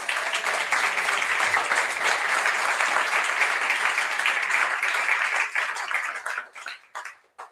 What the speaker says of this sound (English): So a big round of applause first for the Illinois Coalition for Immigrant and Refugee Rights.